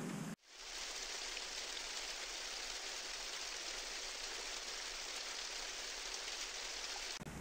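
Steady rain falls on a cold day in East Tennessee, an even, dense patter and hiss that holds constant for several seconds with no voices.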